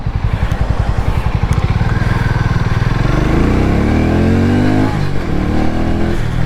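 A Harley-Davidson X440 motorcycle engine pulses at a loud, close idle, then revs up in a rising, throaty sweep before easing back. No one speaks over it.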